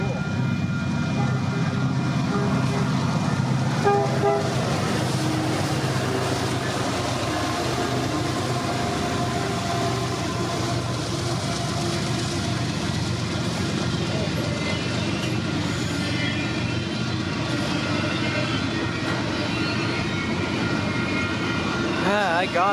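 A railroad locomotive at full throttle passes on a smoky day, its deep roaring engine and rumbling train noise filling the whole stretch loudly and continuously, with a person's voice occasionally heard over it.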